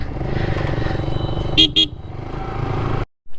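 Yamaha MT and KTM Duke motorcycles rumble steadily nearby in a quiet spot, with two short horn toots in the middle before the engine noise cuts off abruptly.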